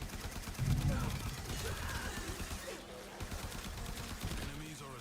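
Rapid automatic gunfire bursts crackle through a space-ninja shooter battle in Warframe, dense and continuous with a voice talking under it.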